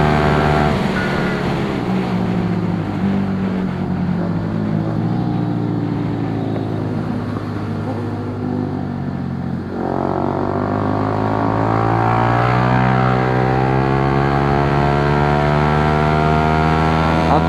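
Kawasaki Z800 and Yamaha R15 V3 motorcycles street racing, engines droning loud and continuous with rising and falling harmonic pitch sweeps as they rev and shift, a dip near the middle before climbing again.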